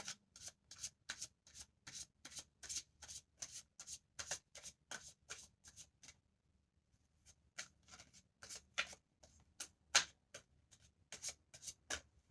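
Tarot cards are shuffled up close in quick riffling bursts, a rapid series of crisp papery flicks that pauses briefly midway and then resumes, with no talking.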